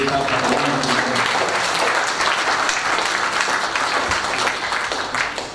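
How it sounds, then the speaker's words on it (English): An audience at the opening ceremony of a post-Ebola conference in Monrovia, Liberia applauds, a dense, continuous wash of many hands clapping at steady volume from start to finish. "I'd like, with the permission of the President, to ask you to give a big round of applause again to this group."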